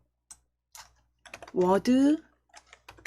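Scattered keystrokes on a computer keyboard as a file name is typed into a word processor, a few soft separate clicks around a short stretch of a woman's speech, close and fairly quiet.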